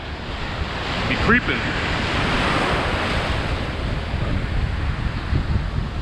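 Atlantic Ocean surf at Daytona Beach, Florida, rolls in as a continuous loud roar mixed with gusting wind buffeting the microphone, while a voice speaks briefly near the start.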